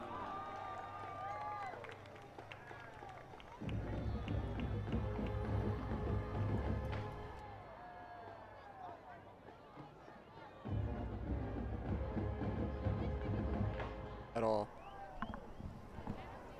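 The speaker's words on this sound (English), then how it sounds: "You hear a lot of the crowd tonight." Crowd in a full stadium at a high school homecoming football game between Caney Creek and Conroe, broad roaring cheers swelling and falling in waves beneath continuous commentary.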